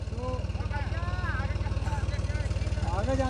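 A John Deere 5210 tractor idling while stuck with a loaded straw trolley, its low, even engine thud pulsing rapidly and steadily underneath close voices talking over it.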